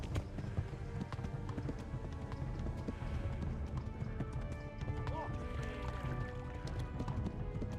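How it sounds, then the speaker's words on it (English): A horse gallops in the video game Kingdom Come: Deliverance. Its hooves pound in a fast, steady rhythm, with a brief whinny partway through and talking over the top. "Galloping the horse as much as I can here."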